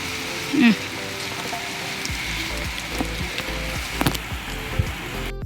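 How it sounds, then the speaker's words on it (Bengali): Rain falls at night on a rooftop garden, a steady hiss of drops on surfaces with occasional louder patters, and a person's voice is briefly heard. "বৃষ্টি পড়ছে ভিজে গেলে অসুবিধা আছে"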